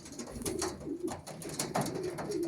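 Racing pigeons, including a grey father bird and his offspring, give soft repeated cooing calls close by in a loft, several throaty coos overlapping against faint background noise.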